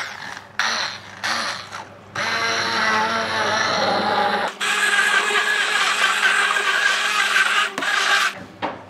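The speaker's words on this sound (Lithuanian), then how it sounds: "tada vėl užvyrini ir tada tik tai pablenderiuoji" A kitchen blender purees pumpkin soup with dill, parsley and garlic, its motor whirring loudly and close in several bursts, with short pauses between and a longer steady run in the middle.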